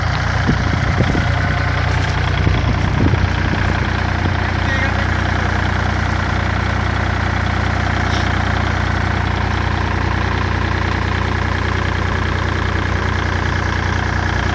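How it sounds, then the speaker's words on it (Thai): An engine-driven water pump runs steadily, pumping water into a rice field with a loud, continuous droning rumble close by and some faint background voices early on. "เออใกล้สูบเสร็จแล้วครับ มาตั้งสูบประมาณสักสิบกว่านาที แล้วครับ"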